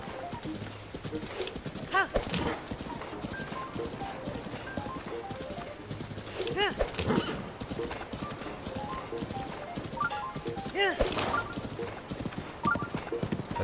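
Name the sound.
horse hooves clip-clop in Breath of the Wild video game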